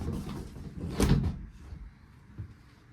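The broken head door in the cabin of a 31 ft sailboat is pulled open, giving a close wooden knock and rattle, then a short scraping slide, followed by a faint bump in a quiet cabin.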